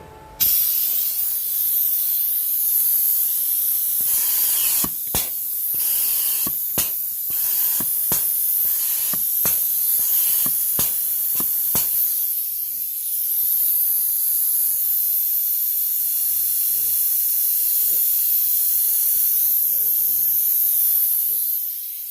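A grease gun sprays grease into a wheel hub bearing: a run of sharp hissing bursts in quick succession, then quieter handling noises and faint talk underneath.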